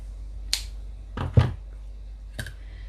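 A few short, crisp snips of ribbon scissors cutting ribbon close by, spaced unevenly in a quiet room, with a pair of cuts in quick succession in the middle.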